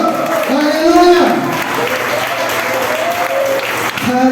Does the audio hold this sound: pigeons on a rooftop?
no